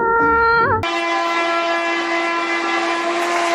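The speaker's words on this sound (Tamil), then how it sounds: "ஆனா கிட்ட வந்த ட்ரெயின் இன்னும் கிட்ட வந்துகிட்டு இருக்கு." A train drawing closer along the tracks in a Tamil TV serial scene: a loud, sustained horn blast dominates, preceded by a brief wavering tone, with no talk.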